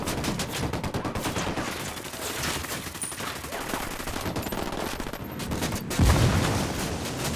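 Sustained automatic gunfire from a minigun in the co-op shooter Ghost Recon Wildlands, a dense continuous rattle of rapid shots lasting throughout with a heavier burst near the end and faint voices underneath.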